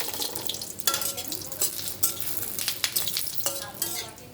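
Bay leaves and dried red chillies frying in white oil in a wok, a continuous close sizzle with repeated scraping stirs of a spatula against the pan.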